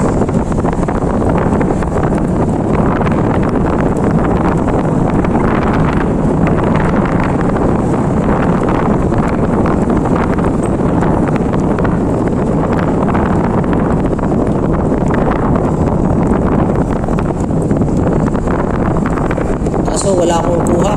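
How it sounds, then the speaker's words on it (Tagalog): Strong wind buffets the microphone nonstop at Salomague Seaport in Cabugao, Ilocos Sur, a loud roaring rumble that never lets up for the whole stretch. "Ang lakas ng hangin, sana ano, mapick up pa rin niya yung mga boses."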